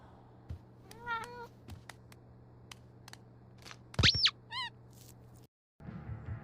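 A cat in the video game Life is Strange: True Colors gives several sharp, close meows, with one loud drawn-out cry in the middle. Soft clicks and a low steady hum sit underneath, and the sound cuts out briefly near the end.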